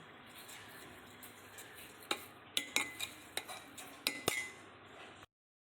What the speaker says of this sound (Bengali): একটু হাতা দিয়ে নেড়ে নিচ্ছি